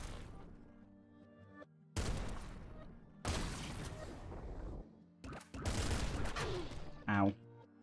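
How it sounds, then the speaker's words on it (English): An ultra triple heavy machine gun in the Nuclear Throne video game (Ultra Mod), fired in several loud bursts of rapid crackling shots separated by short gaps, with tonal game music and effects between them. "Ultra triple heavy machine gun."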